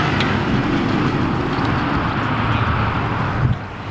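An Audi RS3 with a Unitronic tune launching in automatic mode on sport tires during a drag race against a tuned BMW X5M, a loud, broad roar of engine and road noise that holds steady and then drops off at the end.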